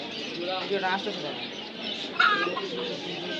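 Pigeons coo at a busy pigeon market in Bangladesh, soft throaty calls mixed into crowd chatter, with people talking close by over a constant background murmur.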